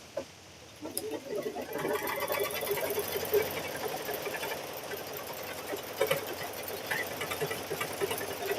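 A quilting machine stitching through a quilt, running as a steady, fast mechanical whir with a fine rattling pulse, fairly quiet and continuous after a brief start.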